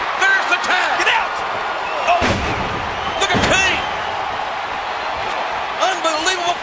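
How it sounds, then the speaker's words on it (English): Wrestlers hit the ring mat with two loud, sharp slams and some smaller thuds during a tag team title match in a professional wrestling arena. A commentator talks excitedly over the impacts. "knocking Farouk and Bradshaw both down, and Farouk goes down again, and so does Bradshaw"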